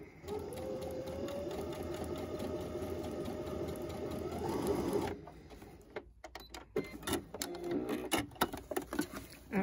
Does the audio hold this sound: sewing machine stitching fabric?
yes